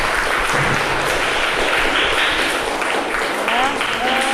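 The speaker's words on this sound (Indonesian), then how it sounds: "berikan tepuk tangan untuk Dinda" Applause rings out in a Grade 4 madrasah classroom for a student named Dinda, steady dense clapping from many children filling the room at a consistent, fairly loud level.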